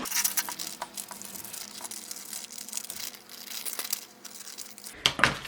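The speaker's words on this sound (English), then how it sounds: "I'm going to take my paper scissors, and I'm actually going to cut this out." Paper scissors cut through a paper sleeve pattern, giving close, quiet snips and crinkling paper rustles at an irregular pace, with a sharper crackle near the end.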